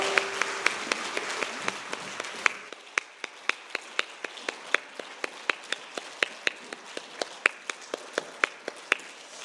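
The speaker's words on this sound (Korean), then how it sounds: "큰 박수로 격려해 주시기 바랍니다." A church congregation at a Wednesday evening devotional service claps in steady, evenly spaced rhythmic beats that carry on for several seconds, heard from a moderate distance in a reverberant hall.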